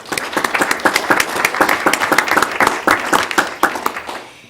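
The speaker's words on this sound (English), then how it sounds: "Let's give all of these teachers a round of applause." Crowd applause for school teachers at a district board meeting, a steady dense patter of many hands clapping at close range for several seconds before fading slightly at the end.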